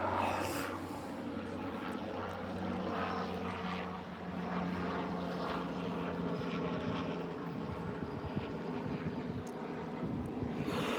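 Continuous heavy rotor drone of a Chinook helicopter in a video game, loud and steady with a deep thrumming rumble, no voices.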